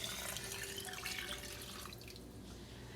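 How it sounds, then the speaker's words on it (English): Water runs from a kitchen tap into a measuring cup for a few seconds, a steady, faint splashing stream close by that softens slightly as the cup fills, with no one speaking. "I usually fill up my measuring cup however much water I need"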